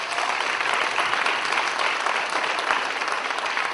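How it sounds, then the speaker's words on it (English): An audience gives steady, dense applause to a young presenting group at a Young Game Changers event, close and loud for the whole stretch, with no talk over it. "Give Gateway Gang another round of applause"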